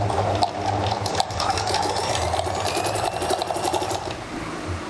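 A sewing machine stitches lace onto a frock bodice, a steady mechanical whirring hum with a fine rapid rattle running continuously and close.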